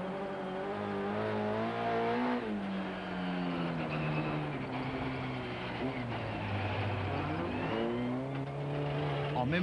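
Onboard sound from Philippe Gage's Mega ice-racing car at the 1998 Trophée Andros, with François Chauche's Nissan following behind: a loud, continuous engine drone that rises and drops through gear changes, with a commentator talking over it.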